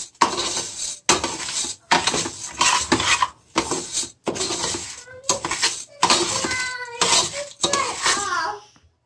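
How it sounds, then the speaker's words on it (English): Rice being browned in oil in a pan for Mexican rice gives off a close, busy sizzle, broken into bursts as it is stirred and moved, with clinks of a utensil against the pan. "this is the sound that you want to hear when the rice is cooking."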